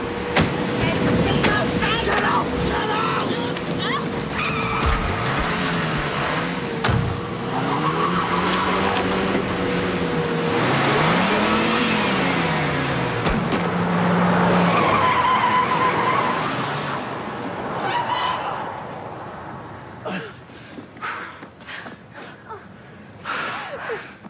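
A car speeds off with long squealing tyre skids and a revving engine, loud and sustained for most of the stretch before fading, with shouting and excited voices over it in a tense street scene.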